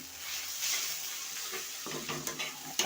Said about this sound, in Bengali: নেড়ে দেবো